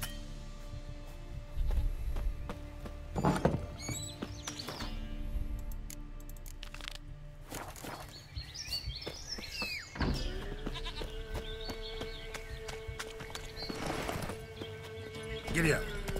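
A horse trots in The Witcher 3, its hooves clip-clopping steadily along with occasional snorts and tack sounds, set against game ambience and music. Someone speaks now and then over the hoofbeats.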